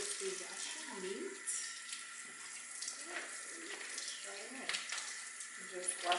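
Cold tap water runs into a kitchen sink to rinse raw shrimp, a steady nearby splashing stream with faint clinks and handling noises.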